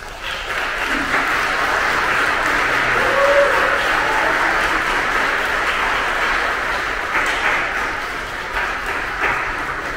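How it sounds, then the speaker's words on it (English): Wedding guests applauding the bride and groom, a steady wash of clapping from a gathered crowd, moderately loud and even, with faint tones and voices mixed beneath. "Let us give them a round of applause."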